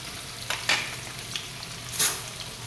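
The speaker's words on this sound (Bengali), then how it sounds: "আর পনিরটা ভেজে নিচ্ছি।" Paneer cubes frying in a pan, a steady close sizzle of hot oil with sharp crackling pops and spits scattered throughout, no voices.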